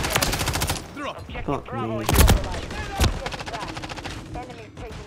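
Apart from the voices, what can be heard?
gunfire in video game Call of Duty Modern Warfare III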